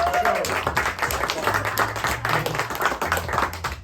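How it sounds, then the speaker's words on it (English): Audience applause at a magic show at the Magic Castle, a dense patter of clapping hands heard up close, mixed with a voice talking over it. "One big round of applause for Carrie"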